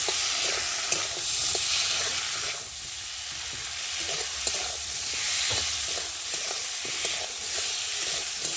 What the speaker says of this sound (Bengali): হলুদ গুঁড়ো, আর এখানটা আছে আদা বাটা, জিরে বাটা, আর একটা টমেটো দিয়ে ভালো করে কষিয়ে নেব।